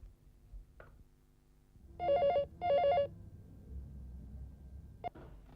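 A telephone rings in two short electronic trilling bursts during a call made from a police station at night, clear and close, between quiet stretches with a faint click and a brief beep at the end.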